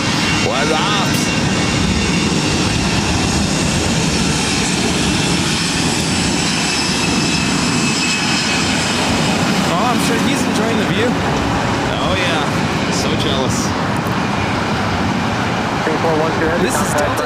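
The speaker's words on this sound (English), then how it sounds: "This is Delta Airlines 2272 taking off to San Francisco on the A320." A Delta Air Lines Airbus A320 takes off at LAX, a steady, loud jet engine roar filling the whole stretch with broad rumble and hiss, while people talk over it.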